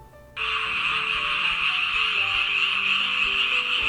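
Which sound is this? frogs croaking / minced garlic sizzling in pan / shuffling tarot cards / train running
frogs croaking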